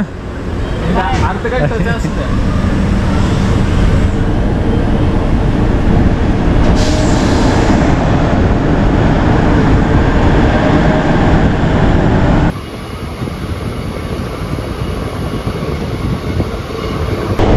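A train pulls out of Kempegowda International Airport halt in Bengaluru, a loud continuous roar of wheels and carriage rumble filling the space, with a sudden drop in level partway through and a voice talking over it.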